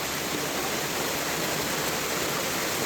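Steady, dense rainfall hisses evenly throughout, a continuous broadband wash with no pauses and no voices.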